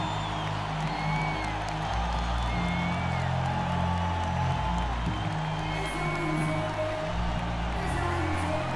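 A virtual arena crowd at the American Airlines Center in NBA 2K19 cheers and roars in a continuous dense wash, with whoops and low rumbling music under it.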